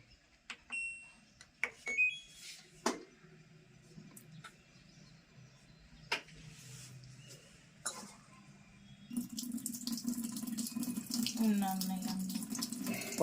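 Water from a tap pours into a sink. After several seconds of sparse clicks and knocks, the flow starts abruptly and runs as a loud, steady rush to the end. A faint voice is audible only briefly.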